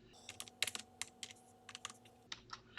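Quiet, close computer keyboard typing of terminal commands, with irregular bursts of crisp key clicks and short pauses between them, heard alone.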